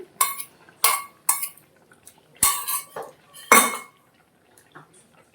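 A spoon clinks sharply against a bowl while sour curd is beaten with salt, a series of bright metallic taps in irregular bursts, then a softer tap near the end, with no one talking.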